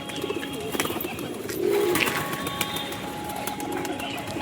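Pigeons coo softly in a netted loft at a home where birds are shown for sale, low murmuring calls rising around the middle, while someone talks nearby over steady background noise.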